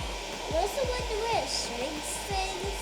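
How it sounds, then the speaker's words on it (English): A heat gun blows a steady, loud whoosh while shrinking heat-shrink tubing on a custom mil-spec wiring harness for a WRX drag build, with a few faint clicks and tonal whines over the constant airflow. "Ooh, that's a heat gun."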